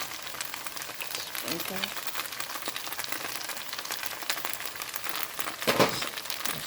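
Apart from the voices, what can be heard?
stir-frying rice noodles with napa cabbage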